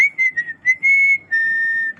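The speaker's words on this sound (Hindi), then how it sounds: "अरे सीटी मत मारो यार।" A person whistles a short, bright tune: several quick chirped notes, then two longer held tones, loud and close, with no talking.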